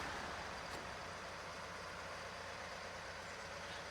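A truck engine in the off-road driving game SnowRunner growls at a steady, loud, unbroken level throughout, a continuous heavy drone with no voices over it.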